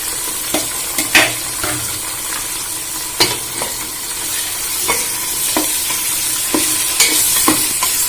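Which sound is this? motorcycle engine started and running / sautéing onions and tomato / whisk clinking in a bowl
sautéing onions and tomato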